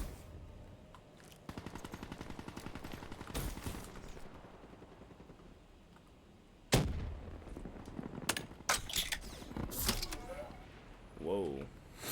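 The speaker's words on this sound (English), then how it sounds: "I like the HLX. It's got a heavy fire rate" HLX rifle fire in Black Ops 3 multiplayer, heard as fast bursts of futuristic gunshots in two main volleys along with other game effects, while a player talks over the action.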